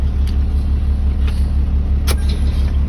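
A tandem dump truck pulls away in first gear with a deep, steady low engine rumble, heard close and continuous with a few faint clicks and no talk.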